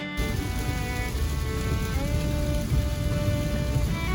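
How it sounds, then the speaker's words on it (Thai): A dense, steady roar of heavy rain pouring down, with a faint tonal hum running beneath it throughout. "ก็จะมีฝนอีกทีหนึ่งครับ และเป็นฝนที่หนักด้วยครับ"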